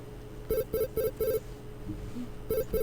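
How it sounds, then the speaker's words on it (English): A video phone call signal in the Snatcher Sega CD video game sounds as a run of four quick electronic tone bursts, a brief pause with small blips, then two more tones, clear and close. "I have a video phone call from Jamie"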